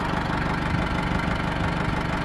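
A farm tractor engine idles close by in a steady, unbroken rumble with a low, even throb and no other sounds over it.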